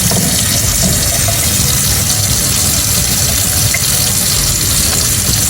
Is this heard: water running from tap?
yes